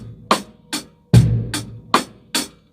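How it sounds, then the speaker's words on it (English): Drum kit groove with bass drum, rim clicks and steady eighth-note hi-hat, a short crisp pattern played alone and close. "bass drum on 1 and 3 and a click, a rim click or a tap on 2 and 4, and it's all 8 notes on the hi-hat"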